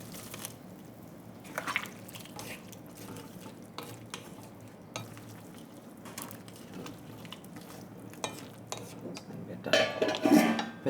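Crispy fried pork is stirred in a pan for sweet and sour pork, with scraping utensil clatter against the metal and a faint sizzle, the clatter louder near the end, no talking.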